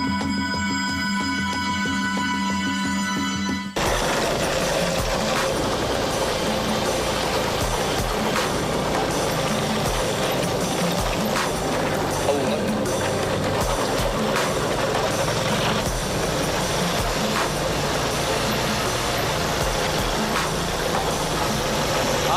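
A small boat motor starts abruptly and then runs steadily, a loud, close, rough mechanical drone with a chugging knock that continues without a break.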